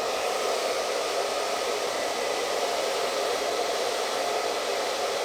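Hair dryer on low heat blowing over damp bangs, a steady, even hiss of airflow that holds constant for about five seconds, close and alone with no talking.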